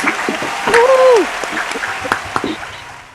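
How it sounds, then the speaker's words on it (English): Scattered, uneven claps from a small group of unmuted participants on an online English department honors call, applauding prize winners. A brief cheering voice rises early, then isolated claps taper off. "join in a round of applause for our Doherty Prize winners"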